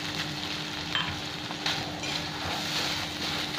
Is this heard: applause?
no